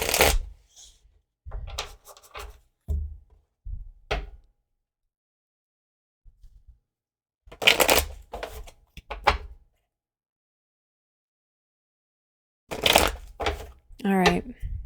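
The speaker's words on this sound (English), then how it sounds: "Just need to do a few more shuffles here." Tarot cards are shuffled in several short bursts of riffling and slapping, separated by silent pauses, close and fairly loud.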